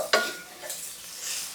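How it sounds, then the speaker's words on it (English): Garlic sautéing in a pan while cooking jambalaya, giving a soft, steady sizzle with a sharp scrape of stirring at the start and brief quiet shuffling after. "I wait to the end to put in the garlic and saute it around"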